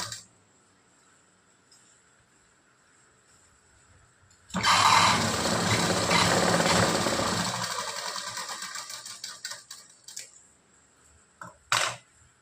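A sewing machine runs in one loud continuous burst while stitching tucks on a blouse, starting abruptly after a quiet stretch, then fading and breaking into a few short stops and clicks.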